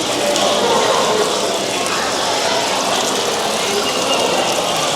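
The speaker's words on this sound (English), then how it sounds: "It's a little waterfall." A steady rushing hiss of falling water from a small waterfall at an aquarium, continuous and fairly loud, heard from close by.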